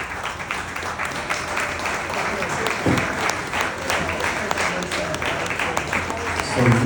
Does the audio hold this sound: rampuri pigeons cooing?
no